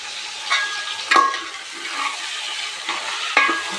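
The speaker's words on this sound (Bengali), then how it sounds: "মাংসটাকে আমি ভালোভাবে ভেজে নিয়ে তারপরে মশলাটা দেব" Meat for biryani fries in a pan while being stirred, giving a steady close sizzle with a few scraping clatters of the spoon against the pan and no voices.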